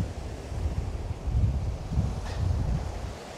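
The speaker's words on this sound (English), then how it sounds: "Hopefully you won't be hearing the wind too much." Wind blows at the seaside during shore fishing, a low, rumbling gust buffeting the microphone in uneven surges, with a soft wash like distant surf beneath.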